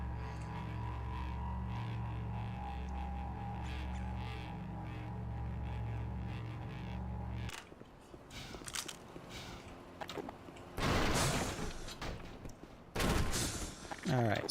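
Submachine gun fire and grenade blasts in Black Mesa: a steady droning backdrop gives way to scattered shots and impacts, then two loud bursting explosions, heard up close.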